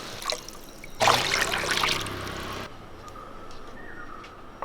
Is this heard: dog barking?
no